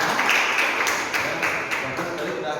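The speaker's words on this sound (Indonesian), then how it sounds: "Ya, tepuk tangan dulu." Audience applause at a school program discussion with students: a steady wash of many hands clapping, moderately loud and continuous for a few seconds.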